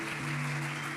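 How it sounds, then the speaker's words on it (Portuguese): Church congregation applauding during a service, a brief burst of clapping under a sustained tone. "Dê um aplauso ao Senhor pela vida do Rodrigo"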